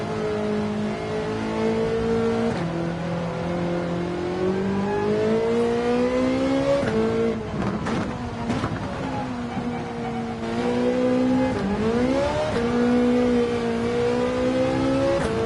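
A race car engine in Gran Turismo 7 drones steadily around the Spa circuit, pitch rising through each gear and dropping sharply at shifts and braking, loud and continuous with no talk.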